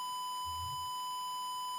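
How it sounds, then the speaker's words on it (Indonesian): An IoT dry-soil warning system's buzzer sounds a steady, continuous high electronic tone throughout, close and unbroken, with a brief low thump in the background. "buzzer akan berbunyi dan muncul peringatan tanah kering"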